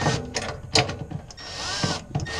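A power driver with a Phillips bit backing screws out of a Fhiaba Fresco refrigerator panel, short whirring bursts of the motor separated by brief pauses, close up with no talking.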